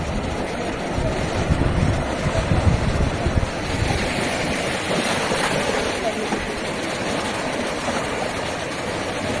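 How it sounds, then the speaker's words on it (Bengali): Ocean waves surge up the sand at Mandarmani beach, a steady broadband roar that swells as a big wave rushes in, with wind buffeting the microphone and people speaking over it. "ওই দেখো চলে এলো ঘরের ভিতরে ঢেউ"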